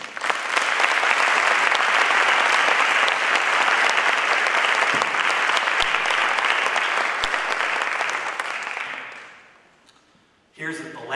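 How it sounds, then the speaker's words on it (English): A school concert audience gives a long, dense round of applause for an 8th grade orchestra, steady and close for about nine seconds before fading out, followed by a brief burst of noise. "let's give them a round of applause"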